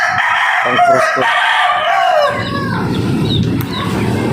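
A pure Golden Boy gamefowl rooster, three years old, crows loudly and close by in one long cock-a-doodle-doo, followed by lower clucking and farmyard noise.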